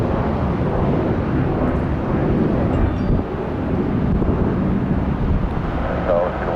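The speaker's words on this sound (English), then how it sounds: "767 with the winglets. That was an interesting turn-in." A Boeing 767 with winglets landing on a runway at Tampa, its engines producing a broad, steady roar mixed with wind buffeting on the microphone, loud and continuous throughout.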